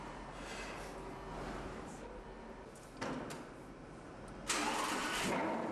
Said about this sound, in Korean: 시동을 거는 순간 슈퍼카가 토해내는 우렁찬 배기음.